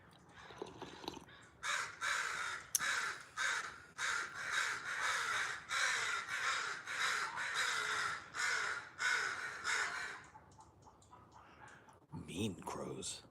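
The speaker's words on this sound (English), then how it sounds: "Mean crows." Crows cawing over and over in long harsh bursts, loud and close for about ten seconds, then fading, with a voice speaking near the end.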